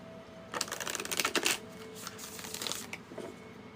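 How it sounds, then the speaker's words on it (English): Tarot cards are shuffled in a quick flurry of crisp riffling taps, then a second, softer burst follows in a quiet room. "One more shuffle."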